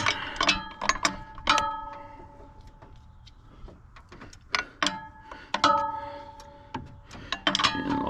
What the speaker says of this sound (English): the big wrench.